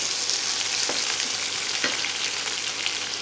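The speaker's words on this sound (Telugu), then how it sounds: "ఇలా చక్కగా ఫ్రై అయిపోయిన తర్వాత స్టవ్ ఆపేసేయండి" Chopped ginger and curry leaves fry in hot oil for temple-style curd rice, a loud continuous close sizzle with occasional scrapes of stirring.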